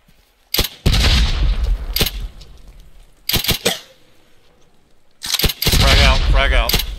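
Gunfire in the Hell Let Loose video game during a battery defense at Brecourt Manor: a few sharp bursts of shots at intervals, with a longer volley near the end, between quieter stretches where players talk.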